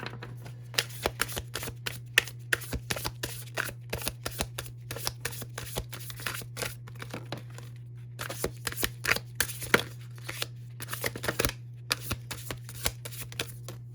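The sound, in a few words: shuffling and drawing tarot cards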